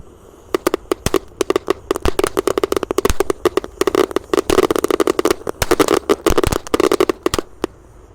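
A fountain firework lit in a hole in the ground burns with dense, rapid crackling and sharp popping bursts, loud and close, continuing irregularly for several seconds.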